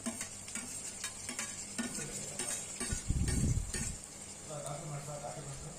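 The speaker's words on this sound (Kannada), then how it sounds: "ಇದನ್ನು ಸಹ ಎಣ್ಣೆಯಲ್ಲಿ ಸ್ವಲ್ಪ ಚೆನ್ನಾಗಿ ಹುರಿಯೋಣ." Chopped beans and carrots are stirred as they fry in oil for vegetable uppittu, giving a soft steady sizzle with scraping and light clinks from a spoon in the pan.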